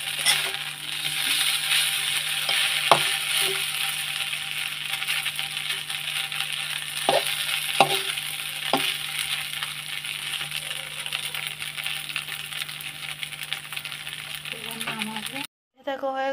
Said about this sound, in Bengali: এরকম করে ভাজতে হবে।